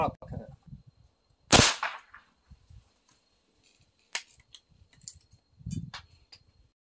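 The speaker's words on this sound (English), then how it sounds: "Shots were decent." A .22 LR rifle fires subsonic and hyper velocity rounds in a penetration test; one sharp crack stands out, followed by a few fainter pops and clicks amid quiet outdoor background.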